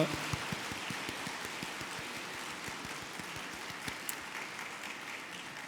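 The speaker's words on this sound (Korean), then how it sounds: "우리 박수로 축복하겠습니다" Church congregation clapping at an ordination service, soft and distant, a steady patter of hands with a few sharper claps standing out near the start.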